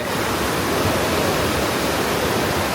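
Steady, full-bodied rush of falling water from a waterfall in Laos, on the Thakhek Loop, constant and loud throughout with no voices.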